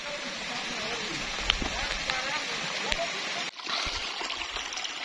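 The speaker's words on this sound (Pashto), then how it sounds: "باران هم تیز شروع دی" Heavy rain falls near a mountain waterfall, giving a soft, steady hiss of splashing water. It breaks off briefly partway through and then carries on at the same level.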